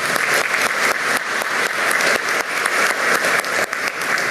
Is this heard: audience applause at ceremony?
yes